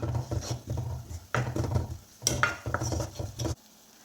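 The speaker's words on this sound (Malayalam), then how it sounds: "ചില്ലി ഫ്ലേക്സ് ഇട്ട് കൊടുത്ത് ഒന്ന് നമുക്ക് ഇളക്കി കൊടുക്കാം." Turmeric and chilli flakes stirred into a spring onion stir-fry with coconut, close spoon scrapes and knocks against the pan in short bursts over a light sizzle, ending abruptly in near silence.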